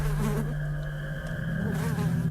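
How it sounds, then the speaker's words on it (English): Flies buzz around stored garbage and meat in a house, a continuous low droning hum that wavers slightly in pitch over a faint noisy background, fairly quiet, with no speech. "There's so many flies, and mostly on our garbage."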